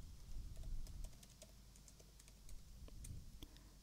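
Light typing on a computer keyboard, with soft scattered key clicks over a low background hum, quiet and steady for several seconds.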